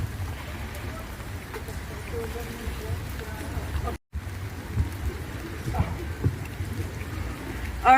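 Steady rain falling outdoors at a gathering in Bristol, a continuous close hiss and patter with a brief dropout near the middle and occasional low rumbles.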